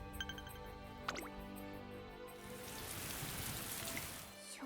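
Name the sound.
rain falling in the video game Umamusume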